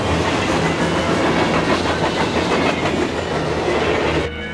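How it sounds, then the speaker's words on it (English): A train rumbles and clatters loudly along the tracks, a dense continuous roar of wheels on rail that holds steady and then drops off abruptly near the end. "The train is coming!"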